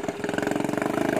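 Small boat engine running with its exhaust pipe cut off, on a river during a tilapia fishing trip: a loud, steady, rapid chugging putter close by, with no talk over it.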